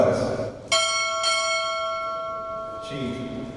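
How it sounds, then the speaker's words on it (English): At a Navy chief pinning ceremony, a ship's bell is struck twice in close succession, loud ringing tones sustaining and slowly dying away, with someone speaking briefly at the start and again as the ring fades. "Two bells."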